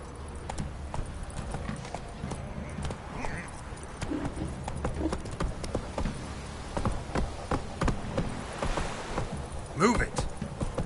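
Horse hooves clip-clopping in a quick steady rhythm as a horse gallops in The Witcher III, close and continuous, with occasional snorts and a voice speaking in between.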